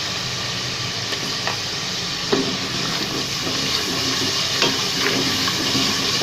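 Garlic paste frying in masala for a restaurant-style white chana curry, a loud continuous sizzle and hiss with a few brief spoon scrapes, no one talking.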